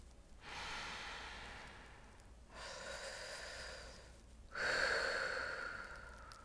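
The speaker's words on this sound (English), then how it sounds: "Now try to just breathe like that." Breathing exercise done with the tongue pressed against the teeth, three slow, audible airy breaths, each a long hissing rush of air through the mouth, close and quiet, with no speech.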